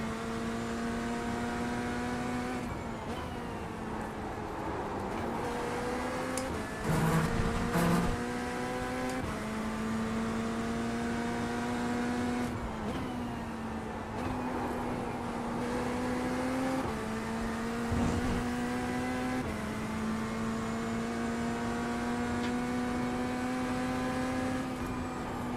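Porsche race car engine in a racing video game, a steady loud high-pitched drone holding near constant pitch with brief dips and rises at shifts, running unbroken for the whole stretch without talk.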